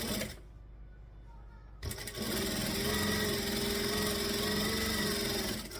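A sewing machine stitches the sides of a mookibii, running in a steady, continuous mechanical whir from about two seconds on after a quiet start, close and fairly loud with no talk over it.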